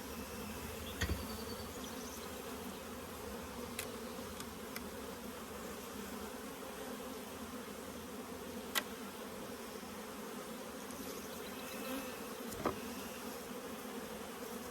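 Honeybees buzz in an opened hive being worked to raise queens, a steady, fairly faint droning hum with a few brief knocks and clicks from handling.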